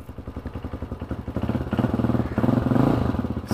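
A Hawk 250 enduro motorcycle engine idles close by with a fast, even single-cylinder thumping, then rises in pitch and loudness as it revs up during carburetor tuning for altitude.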